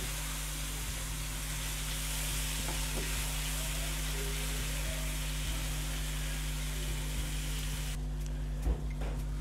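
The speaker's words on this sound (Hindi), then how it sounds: "टमाटरों को थोड़ा सॉफ्ट होने देंगे।" Three large tomatoes frying and softening in a pan of masala for mutton katkat, a steady close sizzle with faint stirring, ending in a couple of soft utensil knocks.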